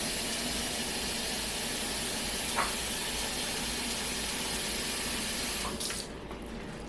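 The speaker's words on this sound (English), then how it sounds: "Now we're going to add liquid." Liquid from a pitcher pours steadily into a hot pot of stew, a continuous watery hiss and splash that runs for several seconds and eases off near the end.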